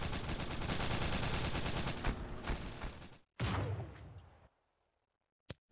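Automatic gunfire rattles rapidly and loudly in Ravenfield, a war game, then a heavy blast, a fading tail, near silence and a final sharp shot.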